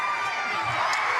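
A college basketball arena crowd at a Conference USA tournament game, WKU against UAB, a broad sustained roar of cheering and shouting, loud and continuous through the brief moment.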